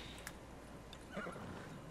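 A faint, brief horse whinny in the video game Ghost of Tsushima rises over quiet background noise, with a few soft hoof-like taps.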